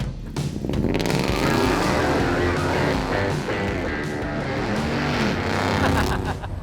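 A '64 Dodge D100 pickup's engine exhaust through Vibrant mufflers rumbles loud and close in a steady, throaty drone that swells slightly and holds for several seconds.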